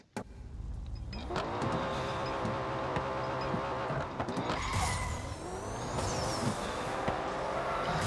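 A McLaren P1 hypercar in a street race in NFS No Limits, its engine droning steadily throughout with rising and falling pitch sweeps as it shifts and accelerates, plus a few sharp transient clicks.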